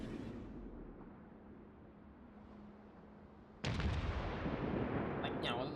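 Naval gunfire in World of Warships: a quiet low rumble breaks into a sudden loud shell blast partway through, followed by sustained booming and crackling.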